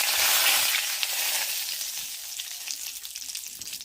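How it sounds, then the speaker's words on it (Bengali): Hot oil sizzles steadily in a pan with chili powder and turmeric for a kan fish and potato curry, a loud, dense hiss that stays close and constant and eases slightly toward the end, with no voices. "তেল গরম হয়ে গেছে"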